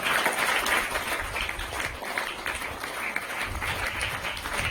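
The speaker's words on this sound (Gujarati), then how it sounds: "દેવીબેન રાજાભાઈ જોશીનું સન્માન થઈ રહ્યું ત્યારે આપણે તાળીઓના ગણગણાટથી આપણે વધાવીશું" A crowd claps to honour a woman at a public ceremony, a steady, dense patter of hands that holds at an even level throughout without pause.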